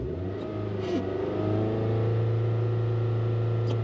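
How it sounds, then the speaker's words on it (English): A car bought cheaply at a Copart auction, its oil-pressure warning on, runs with a steady engine that rises in a smooth rev and then holds high, close and alone. "that engine is smooth as a sewing machine"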